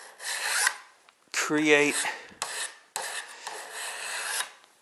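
A standard hand file rasps across the edge of a steel cabinet scraper held in a vise, in four separate strokes, close and fairly quiet, with a brief word spoken over one stroke.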